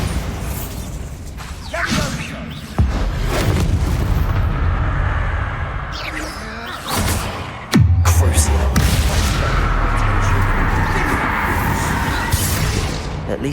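The Bombarda explosion spell in Hogwarts Legacy sounds as loud, booming blasts with sharp onsets followed by rumbling, debris-laden tails, the heaviest burst landing late and ringing on.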